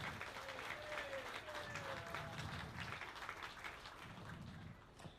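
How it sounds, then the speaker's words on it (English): Faint applause from spectators at a youth sheep market show, a soft distant patter of clapping that thins toward the end, with murmuring voices and some low rumbling mixed in. "Yeah, give them a nice round of applause."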